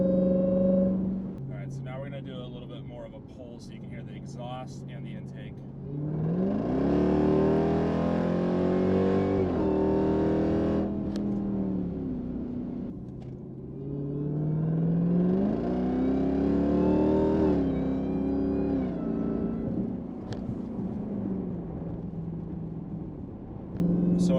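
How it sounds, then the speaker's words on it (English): A Jeep Trackhawk accelerates hard twice, its engine note sweeping up with a loud exhaust roar and intake whine, then easing off between pulls, while a person talks inside the car. "now we're gonna do a little bit more of a pull so you can hear the exhaust and the intake"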